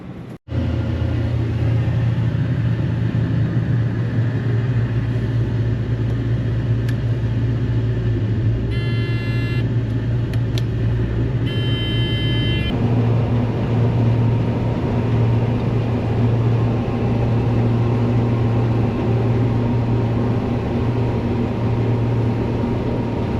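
A farm truck engine idles steadily in a harvested dryland field, a low continuous rumble running throughout with brief faint clicks partway through and no voices.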